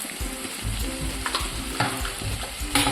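Potato masala filling for masala dosa being stirred in a hot pan, a close, continuous sizzle broken by repeated scraping strokes of a spoon against the pan.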